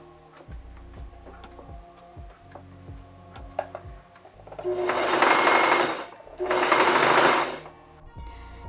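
A sewing machine being oiled and serviced clicks and ticks through a few slow turns, then runs in two loud, fast bursts of whirring stitching, each about a second long, close up.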